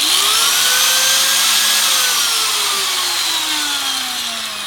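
A cut-off disc power tool slices through Aeroquip 666 hose with a loud, continuous high-pitched whine, its pitch sagging slowly as the disc bites in and easing off near the end.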